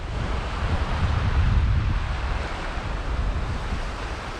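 Wind gusts and rolling surf wash steadily across a UK beach during shore fishing for cod, a loud, continuous roar of breaking waves with buffeting wind noise on the microphone and no voices.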